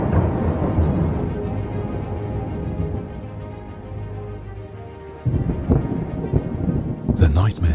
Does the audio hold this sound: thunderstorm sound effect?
yes